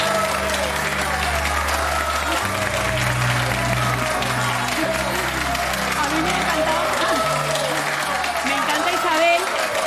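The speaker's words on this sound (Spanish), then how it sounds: "yo quiero pedir un aplauso cariñoso, entregado, enfebrecido, diría yo, para esa gente que tanto se lo merece" Studio audience on a Spanish afternoon television show applauding warmly, a dense, sustained wash of clapping with crowd noise and voices mixed in underneath.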